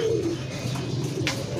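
Breeder pigeons coo softly in a loft, their low murmuring calls continuous over a steady background hum, with a brief rustle near the end.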